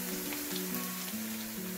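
Strips of garlic and red onions sizzle in a new frying pan for pasta, a steady close frying crackle with a faint hum underneath and no talking.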